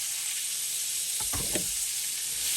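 One chopped onion and two or three slices of chopped bacon sizzle in a pan, a dense, even hiss close by, with a brief cluster of soft low knocks from stirring partway through.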